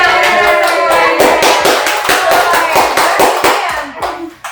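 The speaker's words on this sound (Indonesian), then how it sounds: "Tepuk tangan 1 kali, tepuk tangan 2 kali, 3 kali." A room of women at an anti-corruption family outreach session claps together in unison on cue, giving loud, sharp, closely spaced claps in short counted bursts close by.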